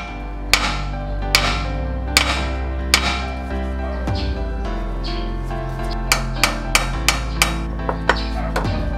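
Sharp metallic strikes ring out while a Nissan Navara rear differential drain plug is loosened with a pipe extension on the wrench, irregular clanks at first, then a quicker burst of taps, each leaving a brief ringing decay.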